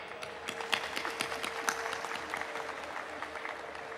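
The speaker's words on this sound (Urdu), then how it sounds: "زوردار تالیاں بجائیں۔" Audience clapping at the Indus University convocation, a steady patter of many hands with sharper individual claps standing out, filling the hall at moderate loudness.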